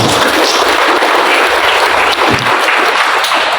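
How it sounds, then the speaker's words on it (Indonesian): Dense applause from a lecture audience at a public talk at Politeknik Baubau, a steady wash of clapping filling the whole span without pause, loud and close with no talk over it. "Tepuk tangan yang meriah."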